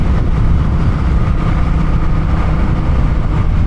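Honda Rebel 1100 DCT automatic motorcycle cruising at highway speed, giving a loud, steady low engine drone mixed with constant wind rush.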